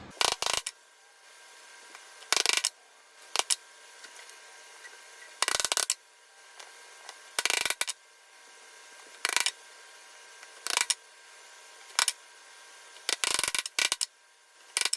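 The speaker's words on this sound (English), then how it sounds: "let's go ahead and insert the dowels" Bamboo dowels are pushed and tapped into drilled holes in a wooden travel cigar box, producing sharp, separate knocks and clicks in short bursts, spaced by near-silent pauses.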